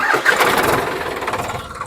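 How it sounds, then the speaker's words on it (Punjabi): A Solis tractor's engine cranks and catches, then settles into a steady, fairly quiet idle, heard up close with no talk. "ਇਹਦਾ ਇੰਜਨ ਦਾ ਸਾਊਂਡ ਵੀ ਤੁਸੀਂ ਸਟਾਰਟ ਕਰਕੇ ਦੇਖ ਲਓ ਜੀ ਬਾਕੀਆਂ ਤੋਂ ਬਹੁਤ ਘੱਟ ਸਾਊਂਡ ਆ ਜੀ"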